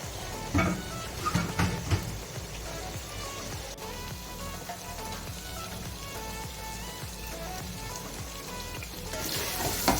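Chana pulao seasoned with biryani masala is roasted in a pan, giving a steady soft sizzle with occasional stirring scrapes and clinks, close and moderately quiet, with no one talking.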